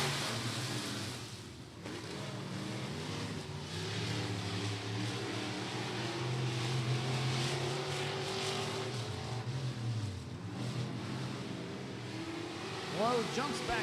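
Race cars roar around a speedway during a local-class heat race, engine drone steady and moderately distant throughout, rising and falling as cars run nose to tail, with a commentator talking over the action.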